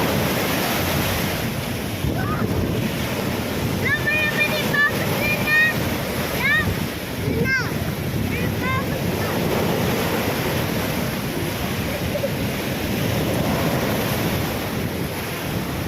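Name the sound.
rough sea waves during typhoon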